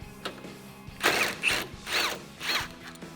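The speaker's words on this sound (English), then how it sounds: "Then grab your 10mm socket and remove the bolt that's right next to it." A 10mm socket on a ratchet loosens a headlight bolt on a 2019-2020 RAM 1500 pickup, about four quick rasping clicking strokes close up, with no talking.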